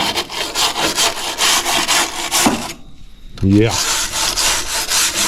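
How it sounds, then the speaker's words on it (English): Rusty metal around the window opening of a 1970 Chevelle is brushed down by hand with steady, rhythmic rasping strokes, close and fairly loud. The strokes pause briefly while a voice speaks in the middle, then resume. "Give this a good brushing down"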